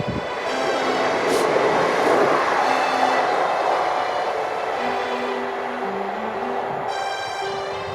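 A southbound train passes on the Glasgow & South Western line near Broomrig Farm, a continuous loud rumble and rush of rolling stock with faint squealing tones, heard alone.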